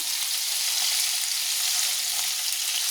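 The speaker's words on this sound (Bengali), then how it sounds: "দিয়ে আমি আলুটাকে ভেজে নিচ্ছি" Cubed potatoes frying in a pan with salt and turmeric for a spicy Kolkata-style barbati aloo, giving a steady, even sizzle that holds level throughout with no talking.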